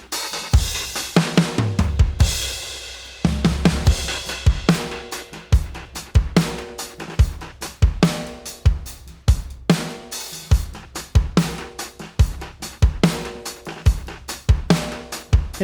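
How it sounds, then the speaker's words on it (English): Drum groove processed with Soundtoys Tremolator and PanMan plugins, a steady loud pattern of punchy kicks and snares with a pulsing, chopped rhythmic layer like a percussion loop underneath, playing alone without talk. "so now, altogether, the drums sound like this."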